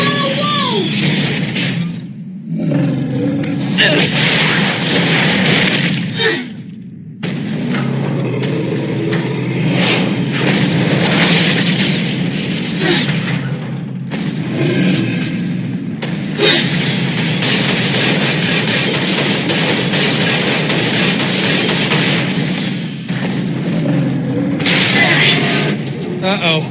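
Loud, dense roaring blasts of rocket boosters in the video game Tales from the Borderlands fill nearly the whole stretch, with brief dips between bursts and excited voices mixed in.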